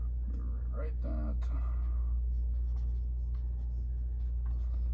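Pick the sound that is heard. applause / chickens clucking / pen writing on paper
pen writing on paper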